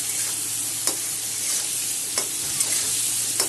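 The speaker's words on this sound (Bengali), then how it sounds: "সব একসাথে আমি এখন ভেজে নেব" Potatoes sizzle steadily in a hot pan while a utensil stirs and scrapes them a few times, with no voices.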